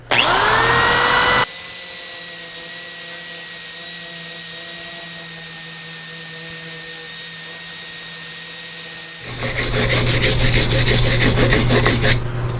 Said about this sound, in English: we're just going to hit this with this wire brush